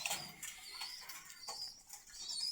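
Pigeons at a bird market in Meradia, Khilgaon, Dhaka, with soft cooing, chirps and a few brief wing flaps amid steady crowd bustle, no speech.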